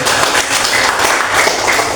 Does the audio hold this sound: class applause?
yes